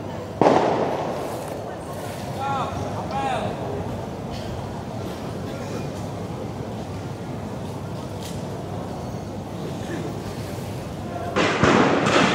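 Tear gas canisters shot toward protesters at the Mako Brimob Kwitang gate in central Jakarta at night: a sharp bang at the start and another near the end, with crowd noise and chatter in between.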